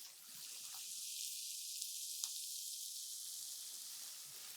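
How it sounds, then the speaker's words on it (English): Onions frying with salt in a pan for a Punjabi curry base, a faint, even sizzle holding steady with a couple of tiny crackles. "Cook these onions till they are nice and brown."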